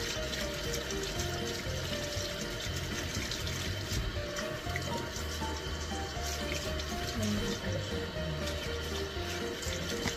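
Tap water runs steadily while fish are rinsed of blood in preparation for daing, a continuous close splashing wash with no pauses.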